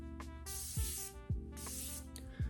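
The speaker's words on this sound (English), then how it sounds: "Now I'm gonna spray the bottom of my face." Two quick bursts of makeup setting spray mist onto the lower face, each a short airy hiss over soft background music.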